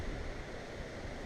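Strong wind blasts across a mountain trail on the Pacific Crest Trail, a steady, dense, low roar of rushing air buffeting the microphone without letup.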